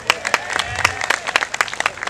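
Group clapping at an informal student gathering, several separate sharp claps scattered unevenly over a couple of seconds, sparse and close rather than a full ovation, with faint voices mixed in.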